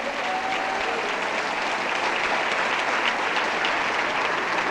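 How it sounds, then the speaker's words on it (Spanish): A church congregation applauds during a Spanish-language service, with loud, dense, steady clapping that continues unbroken throughout. "Fuerte ese aplauso es para el Señor."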